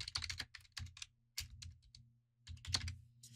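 Someone types on a computer keyboard, close and quiet, tapping out short irregular bursts of keystrokes separated by brief pauses.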